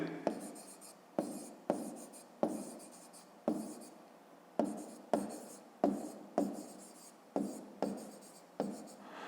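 Pen writing out a maths solution on paper, about a dozen short, evenly spaced scratchy strokes, close and quiet with no talk.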